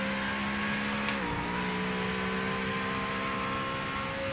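A CLK race car engine in the Project Motor Racing video game holds a sustained drone that shifts pitch briefly partway through, then settles into a steady tone with no talk.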